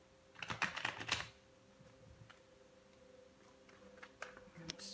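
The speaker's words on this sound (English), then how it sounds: "Couple shuffles in here." Tarot cards being shuffled at close range, a cluster of quick riffling clicks at the start followed by a few scattered soft taps in a quiet room.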